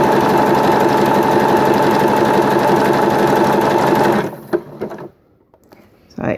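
A sewing machine runs a zigzag appliqué stitch with a loud, steady, rapid mechanical whir for about four seconds, then stops, leaving a few light clicks and handling sounds.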